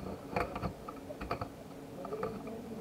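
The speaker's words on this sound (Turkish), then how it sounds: "Aynı zamanda benim klavye sesimi de duyuyorsunuz." Close, clicky typing on a computer keyboard during Minecraft play, with small clusters of keystrokes and brief pauses over quiet room tone.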